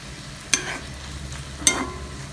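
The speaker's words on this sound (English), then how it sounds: "Saute for a few minutes and cook until the tomatoes become mushy." Tomatoes sautéing in a pan for a manathakkali pachadi, with a soft steady sizzle broken by two sharp clicks of a spoon against the pan.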